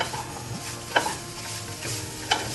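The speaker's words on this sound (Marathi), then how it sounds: "थोडेसे तूप टाकून नारळ व्यवस्थित भाजून घ्यायचे आहे" Coconut roasts in ghee while being stirred, a steady close sizzle with spatula scrapes and two sharper clinks against the pan.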